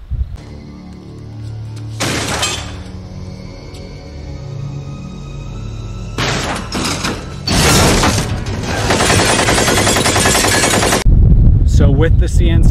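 A WBP Mini Jack AK pistol fired in sharp, loud bursts of shots separated by quieter pauses, heard under and between a man's speech.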